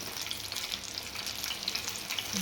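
Tomato bhajiya fritters fry in hot oil while a spoon turns them one by one, giving a steady, close crackling sizzle with faint stirring scrapes and no voices.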